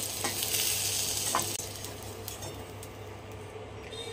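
Potatoes fry in hot oil in a wok, a loud steady sizzle with a few sharp scrapes and clinks of a utensil, no voices.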